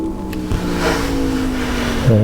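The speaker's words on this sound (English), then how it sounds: "Excuse a loud motorbike in the background." A loud motorbike passes in the background outside a loft, its engine a steady drone that rises and falls slightly, with a shift in pitch near the end as it moves away.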